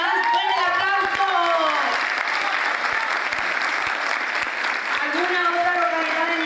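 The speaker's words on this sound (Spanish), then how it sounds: "¡Fuerte el aplauso!" Audience applause at a youth parliament gathering in Ituzaingó, a steady dense wash of clapping from a large crowd sustained throughout, with a voice speaking over it at the start and end.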